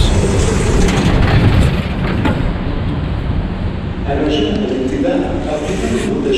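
A Dubai Metro train from Dubai Airport Terminal 3 rumbles steadily along the tracks, a loud continuous roar with faint rattling, and muffled voices can be heard underneath.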